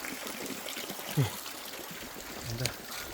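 Spring water runs and trickles at Sandayong River in Minglanilla, a soft, continuous outdoor flow with a couple of faint splashes and a voice murmuring in the background.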